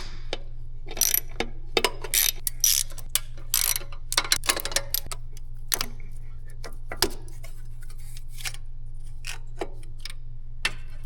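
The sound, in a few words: ratchet removing 8mm bolts of an EGR crossover pipe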